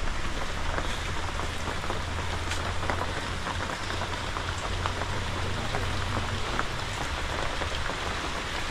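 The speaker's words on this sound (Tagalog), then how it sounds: "Papatila po tayo ng ulan." Steady rain falls throughout, a dense even patter of drops hitting surfaces, with a low hum running beneath for most of it and no voices.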